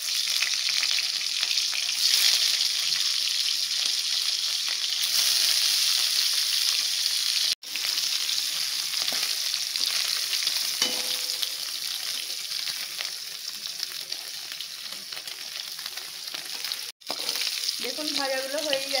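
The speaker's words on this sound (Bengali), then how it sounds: "এবারে তেল দিয়ে দেওয়া হচ্ছে, ভেজে নেওয়া হবে ধোকাগুলো" Cut dhoka lentil cakes fry in a pan of oil, producing a dense, close sizzle that runs steadily with occasional stirring clatter and two brief cuts in the sound, and no one speaks.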